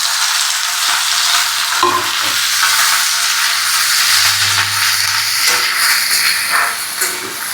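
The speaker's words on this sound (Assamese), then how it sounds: "পিঁয়াজ ভাজি হৈ গ'ল" Onions frying in oil produce a loud, dense sizzle that runs steadily throughout, with occasional stirring knocks and scrapes close by and no voices.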